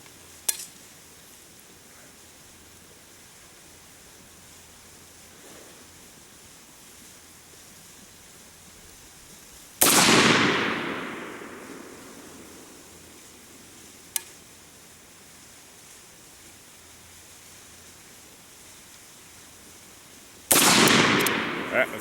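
Sharp, loud rifle shots from an AK fitted with a Parabellum AKARS rail, two separate reports about ten seconds apart with long echoing decays outdoors, plus a fainter distant pop between them.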